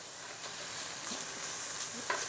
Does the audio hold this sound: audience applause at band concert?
no